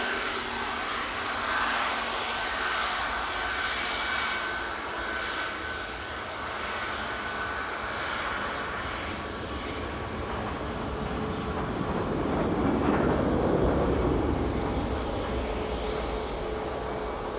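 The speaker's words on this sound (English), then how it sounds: "That chewy Palmer flight is about to go next. You can probably hear it inching along." Jet airliner taxiing slowly at Newcastle airport, a steady broad engine rumble and whine throughout, swelling slightly louder near the end, with no talk.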